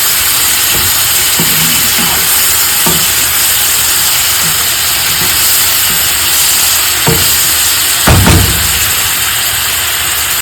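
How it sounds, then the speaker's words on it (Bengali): Tangra fish being fried with spices and chopped tomato, a steady broad sizzle running throughout with occasional scraping stirs and a louder clatter near the end, no talking. "এখন মশলাটা ভালো করে কষিয়ে নেব ট্যাংরা মাছগুলো একটু কষিয়ে নিচ্ছি"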